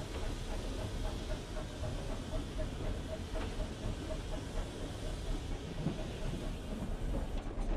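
A preserved branch-line steam locomotive hauling unfitted freight wagons moves off, its steady rumble, hiss and rail clatter close and continuous throughout without a break.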